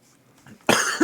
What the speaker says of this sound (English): Sorry, I've been sick and hiding my coughs.